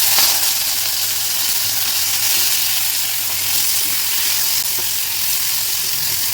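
Tomatoes sizzle loudly in hot oil with dried chili, garlic and five-spice seeds for an Assamese koi fish curry, a dense continuous frying hiss close by with a few faint clinks and no talking.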